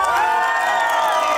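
Crowd at a village costumbrista festival in San Juan de Yananaco cheering and whooping for the third contestant, loud and close, a brief burst of sustained voices with little clapping evident.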